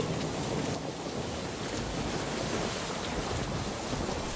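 Cartoon rain pours as a dense, unbroken hiss of steady rainfall with a low rumbling wash underneath, loud and constant throughout.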